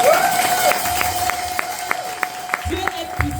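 Church congregation clapping in praise of God, a steady rhythmic beat of claps under a sustained voice or tone, with crowd noise filling the room.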